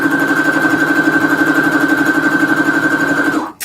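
Sewing machine stitching fabric scraps, a loud close rapid mechanical whir with an even fast pulsing rhythm that runs steadily for about three seconds, then winds down and stops abruptly, with no talking.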